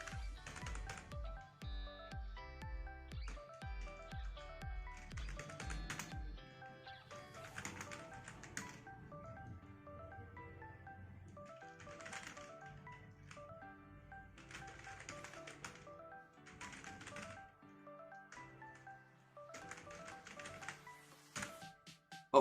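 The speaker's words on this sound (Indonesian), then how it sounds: "langsung aja kita ketik pertanyaannya di sini" A question is typed out on a computer keyboard in quick, uneven bursts of close key clicks separated by short pauses.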